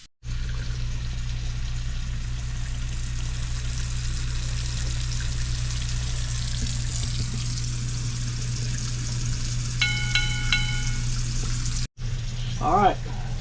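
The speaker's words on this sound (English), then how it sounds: "So let's run out 8 gallons of water" Water runs steadily from an RV kitchen sink tap while the Truma hot water tank is flushed, a continuous close rushing stream over a low hum, with a few brief beeps near the end.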